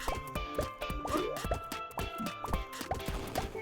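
Underwater bubbles in a Banban horror video game make soft, quiet drips and plops scattered over a sustained tonal backdrop, with no talk.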